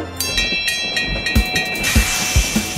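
Cartoon train on a railroad, heard as a steady rail rumble with regular clickety-clack thumps and a faint whistle-like tone, moderately loud and close, with no talk over it.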